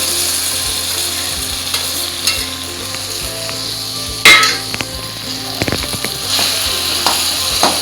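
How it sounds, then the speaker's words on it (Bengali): Two eggplants go into spicy gravy in a wok, bringing a close, loud sizzle with a sharp burst at the moment they drop in, then clattering stirs and scrapes, with no talking. "এবার এর মধ্যে আমি বেগুন দুটো দিয়ে দিলাম।"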